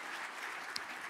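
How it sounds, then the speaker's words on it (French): A brief, even wash of audience applause for round-table panel speakers at a colloquium, steady and moderately distant, with one sharper clap standing out. "d'applaudir les différents intervenants de cette table ronde"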